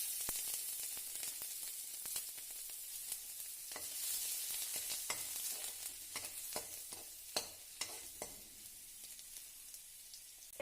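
Cumin seeds and ground garlic paste sizzle in hot oil, a soft continuous frying hiss broken by quiet stirring scrapes and crackles, close but faint, with no talking.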